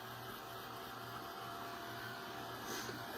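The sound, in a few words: dryer drying paint on a craft board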